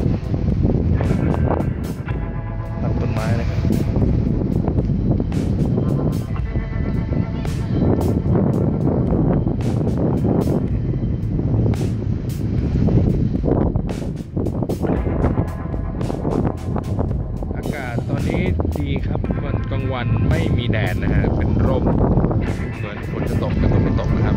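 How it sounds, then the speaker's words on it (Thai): A cool wind blows across the Huaqiao University campus in Xiamen, roaring steadily against the microphone throughout, with someone talking over it. "เย็นสบายมากครับลมเย็นมาก"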